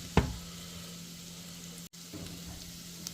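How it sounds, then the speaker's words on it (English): Freshly chopped garlic sizzles in melted butter in a pan, a steady low fry hiss with one sharp knock near the start and a brief dropout midway. "now we're going to add about 4 cloves of garlic, freshly chopped. We're going to let it sit there in the butter until fragrant"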